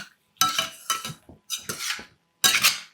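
Sweet potato slices tossed in melted jaggery syrup in a pan, four or five distinct scraping, clattering bursts of a utensil against the pan separated by brief silences, close and clear, with no speech.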